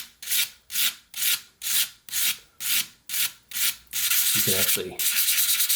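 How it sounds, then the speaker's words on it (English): Sandpaper rubbed back and forth over a whittling knife blade during sharpening: eight evenly spaced rasping strokes, then a longer continuous scrubbing pass, close and clear, with a brief voice speaking near the end. "we're just going to run the knife, the sandpaper over the knife surface like so."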